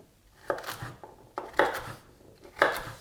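A knife chops a spongy-cored vegetable into cubes on a board, three sharp, close cuts about a second apart, each with a short scraping tail, and no voice.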